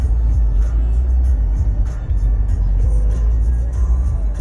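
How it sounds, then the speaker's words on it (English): A car driving down Pulaski in Chicago, heard from inside as a steady low engine and road rumble, loud and continuous with no talking. "I'm driving down Pulaski"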